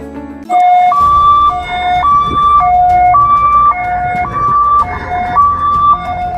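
An ambulance siren in an advertisement for an ambulance service, wailing loud and close in a steady two-tone pattern that alternates high and low every half second or so, with no talk over it.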